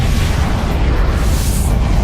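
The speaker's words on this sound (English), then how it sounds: "A supernova is the colossal explosion of a star at the end of its life." A supernova explosion sound effect: a continuous, loud, deep rumbling roar with a broad hiss on top, sustained without a break.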